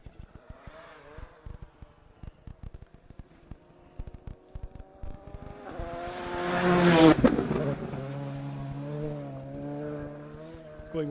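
A rally car on a forest special stage approaches and roars past loud and close, engine rising to a peak then holding a steady high drone, with a commentator talking over the first half.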